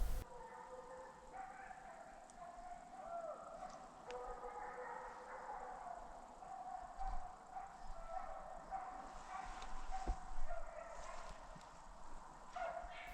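Hunting dogs bay and yelp at a distance during a fallow deer and wild boar drive hunt in woodland, faint and intermittent under wind and outdoor ambience.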